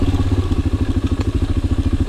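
Suzuki DR 250 enduro motorcycle ridden on Carpathian mountain trails, its single-cylinder engine thumping in a fast, steady pulsing rhythm, loud and close with rattling clatter over the top.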